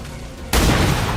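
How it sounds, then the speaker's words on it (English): A hand cannon fires once in XCOM 2, a sudden loud blast that cuts in after a quiet stretch and rings out with a broad, sustained roar of reverb. "now the hand cannon should be able to finish him off"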